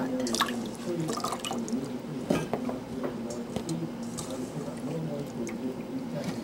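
Food being washed by hand in water, with close splashing, dripping and sloshing in an irregular rhythm and faint knocks against a bowl.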